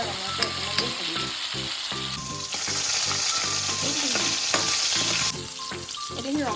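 Garlic and onion fry in hot oil, a continuous sizzle with scattered crackles that grows denser in the middle, heard alongside steady tonal background sound.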